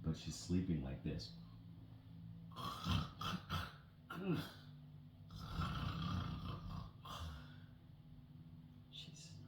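A voice imitates a woman snoring while a children's story is read aloud, producing several loud, rasping snores in a row, close to the listener.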